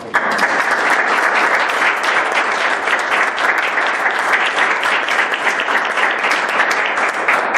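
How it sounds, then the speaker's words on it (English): A crowd applauds loudly and steadily at a township trustee meeting, a dense continuous patter of clapping that carries on at full strength from start to finish. "I give you a round of applause."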